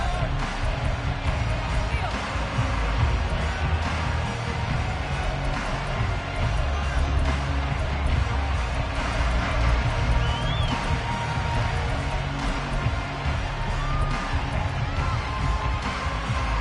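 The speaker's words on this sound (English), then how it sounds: "The crowd may be losing just a little bit of the edge after back-to-back punts." A stadium crowd at a Raiders vs Chargers football game makes a dense, steady murmur of distant voices throughout, with a commentator talking over it.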